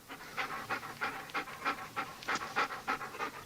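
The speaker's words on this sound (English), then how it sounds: "That, Sergeant, is the sound of a dog who's just run 23 miles." A dog pants hard after a 23-mile run, quick rhythmic breaths close by and fairly loud, about four per second, steady and alone without talk.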